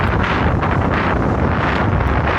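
Strong hurricane-season wind buffets the microphone outdoors, a loud, continuous roaring rush with rough gusty texture and no voices.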